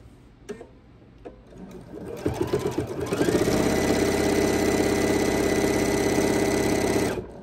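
A sewing machine stitches binding onto a quilt, starting with a few clicks and slow thumps, then running into a steady, fast, close mechanical hum for several seconds before stopping.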